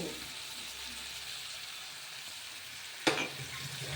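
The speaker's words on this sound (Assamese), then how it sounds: "পিঁয়াজখিনি অলপ ভাজি ল'ম।" Onions fry in a pan with a soft, steady sizzle, then a sharp clatter of stirring near the end briefly lifts the sound before the sizzle settles again.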